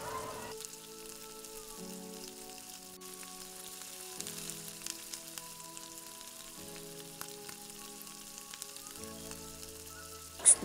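Garlic, then onion, sautéing in reused cooking oil for spicy adobong liempo: a steady, quiet sizzle running throughout under a layer of soft background music, with a brief louder knock at the very end.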